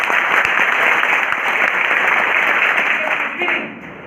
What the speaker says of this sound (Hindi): आपको तालियां बजानी है जोर से